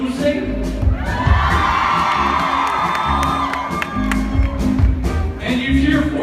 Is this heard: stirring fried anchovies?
no